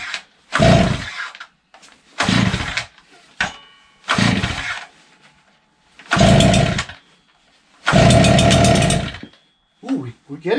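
A Stihl TS400 gas cut-off saw engine roars in several loud bursts separated by gaps while it runs partly choked, close up, and a few brief voices come in between the bursts.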